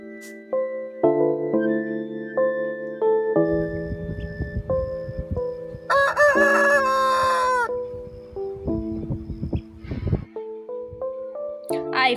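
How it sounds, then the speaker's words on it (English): A rooster crows and hens cluck over a cheerful synthesized tune, the farmyard calls bright and clear amid the music. "H for hen"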